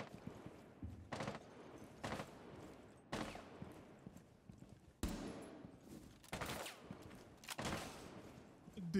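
Bursts of automatic gunfire from low-recoil guns in a controller-played video game, several distinct volleys in quick succession at moderate level, with faint voices chatting beneath.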